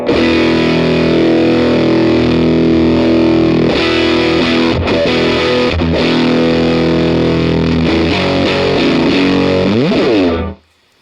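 Loud, sustained electric guitar chords through an overdrive distortion pedal ring out with heavy overdrive and raised brightness, then a bend trails off before the sound cuts to silence.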